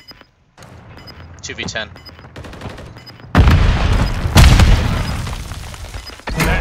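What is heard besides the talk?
gunfire in Call of Duty Modern Warfare 3 video game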